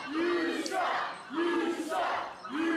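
A wrestling crowd chants in unison against the Ego Trip team, three loud rhythmic chant phrases rising and falling in quick succession with no other voices over them.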